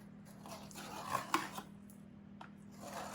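Metal scraper drawn along the edge of an etching plate to bevel it, a few quiet rasping scrapes with small clicks, close and faint over a low steady hum.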